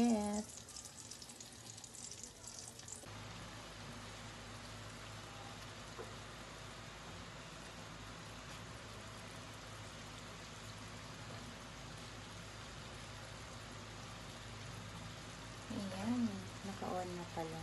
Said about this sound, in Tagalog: Niluluto na yung chicken breast natin.